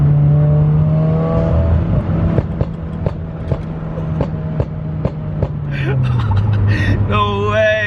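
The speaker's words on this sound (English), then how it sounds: "you have to actually feather the throttle a little bit to get them burbles" Subaru WRX with a burble tune, exhaust crackling and popping in sharp bursts as the throttle is feathered in second gear around 4,000 to 5,000 RPM over a steady engine drone, close and loud, with excited voices talking over it.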